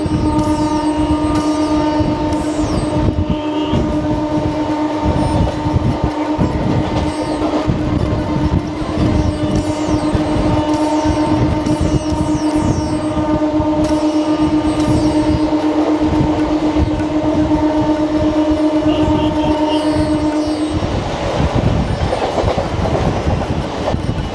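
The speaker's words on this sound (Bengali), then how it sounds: "ট্রেন আমাদের কোলাঘাট ব্রিজে ঢুকছে।" A local train from Howrah to Digha rolls steadily at about 75–80 km/h, a loud, continuous rumble and rhythmic clatter with a steady tonal hum throughout, shifting in character near the end as it enters the Kolaghat bridge.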